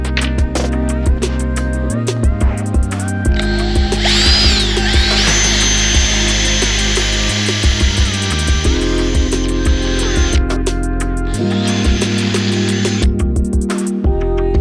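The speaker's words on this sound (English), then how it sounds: "drill all of your holes out" A power drill whirs in repeated bursts, drilling holes for a shelf in a Ford Transit van, winding up and stopping, with clicks and mechanical knocks between runs.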